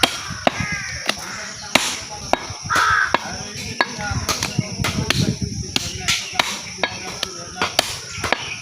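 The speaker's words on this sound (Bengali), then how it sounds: "আজকে আমি গোস কাটছি নি, আজ আমার ভাইয়েরা কাটছে" Sharp cleaver chops hack through goat meat in a steady rhythm, about a dozen loud close blows spread irregularly, with crows cawing in the background and voices talking at moments between strikes.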